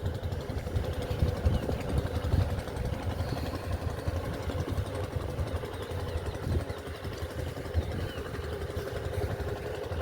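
A motorcycle engine idles with a steady, even drone, fairly close and continuous, in a sandy riverside char village with no voices over it.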